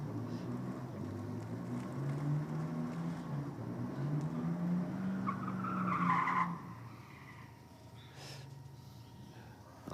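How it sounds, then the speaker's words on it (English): Tires skid and squeal as cars do a burnout at a night 4WD racing event, engines revving loudly and steadily for about six seconds before the noise drops away to a quieter background rumble. "I think these guys are having a bit of a ball down in the burnout."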